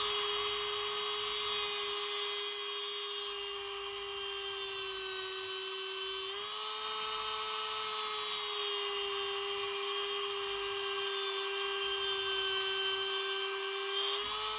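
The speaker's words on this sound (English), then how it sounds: "I'm going to use my cut off disc to grind the end of my grub screw slightly shorter" Steady high-pitched whine of a rotary tool's cut-off disc grinding down the end of a spinning slot car grub screw, continuous and close with a slight pitch shift midway, no talking.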